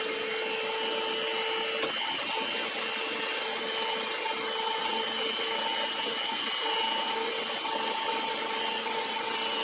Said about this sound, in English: number 8 on my 12-speed mixer